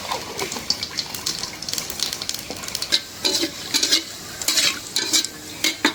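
Cumin seeds crackle and sizzle in hot mustard oil in a pan, a steady crisp frying hiss with scattered pops and occasional stirring clatter, close by and without talk.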